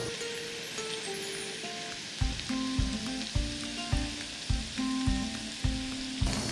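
Onion and scallion brown in a pan for Turkish menemen, a steady sizzle broken after a couple of seconds by regular stirring knocks, close and moderately loud with no voices.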